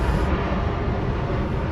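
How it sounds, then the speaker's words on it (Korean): A steady, broad roar of an airplane passing overhead fills the clip, constant and fairly loud with no voices, in Northern Virginia near Washington's international airport. "비행기가 소리가 좀 소음이 좀 나는데"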